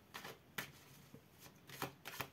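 Tarot cards are handled and laid down on a table, heard as about five soft, quick papery swishes and taps spaced irregularly in a quiet room.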